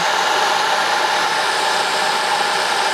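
An old, rusty houseboat generator engine runs at a steady idle, giving a constant, loud, broadband mechanical drone with no change in pitch or rhythm for the whole stretch.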